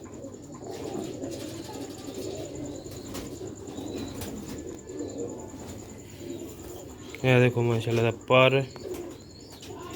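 Sialkoti chhat pigeons kept for sale coo softly throughout with occasional wing flaps, and someone speaks briefly near the end.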